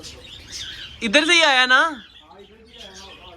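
Pigeon chicks in a dirty pigeon loft give a loud, wavering squeaky chirp lasting about a second, with softer chirps around it and someone talking nearby.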